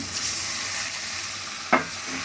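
A little water added to fried onions with turmeric, chilli and coriander powder, producing a steady close sizzle with one brief scraping stir partway through.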